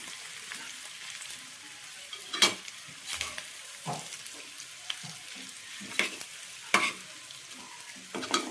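Eggs and onions frying in oil are stirred in a pan for a spicy egg dish, with steady sizzling broken by repeated scraping strokes of the spoon at an irregular pace, close and clear, with no talk.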